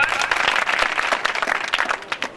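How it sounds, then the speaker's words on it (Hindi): Audience applause at a talk on becoming a Bihar topper, dense and steady throughout a short burst, fairly near and moderately loud, with no speech over it. "उसके लिए जोरदार तालियां एक बार।"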